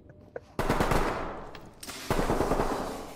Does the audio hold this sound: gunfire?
yes